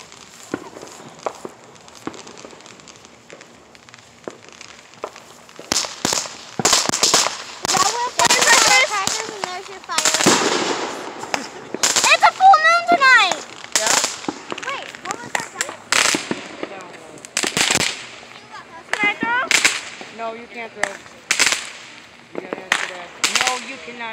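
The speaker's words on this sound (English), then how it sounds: "That's firecrackers." Firecrackers pop and crackle in rapid, irregular bursts during a Fourth of July celebration, loud and close, with some people's voices mixed in.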